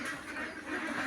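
Farm ducks raised for sale give a short burst of quacking, a faint brief call heard on its own.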